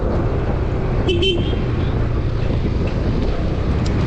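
A Honda Forza MF10 fuel-injected scooter rides along a road under loud, steady wind roar and engine rumble, with a brief higher tone near the start.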